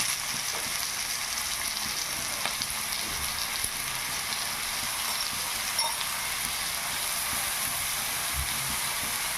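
Cut potatoes and mushrooms stir-frying in a spice paste, a continuous close sizzle with occasional scraping stirs and small pops, no voices.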